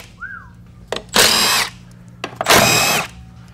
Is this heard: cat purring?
no